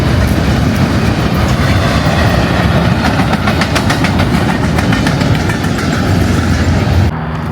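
A train rumbles past at close range, loud and steady, with rhythmic clattering of wheels over rail joints, then the noise drops off at the end.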